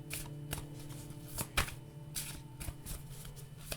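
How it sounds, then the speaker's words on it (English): Tarot cards are shuffled by hand in repeated crisp riffling bursts and soft slaps, close and fairly quiet, with no speech over them. "So let's just shuffle."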